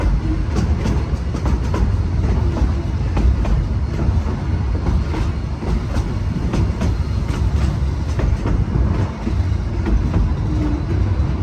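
Cumbres & Toltec Scenic Railroad 3-foot narrow gauge K36 484 steam train arriving, with a continuous loud rumble of wheels and rolling cars, a rhythmic clickety-clack and occasional squeals, heard up close and steady throughout.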